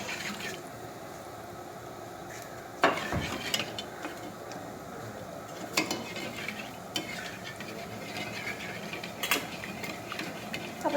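Sugar and water being stirred in a pan to make caramel for caramel pudding, with steady close scraping and clinking of a utensil against the pan over a low sizzle, and a few sharper knocks.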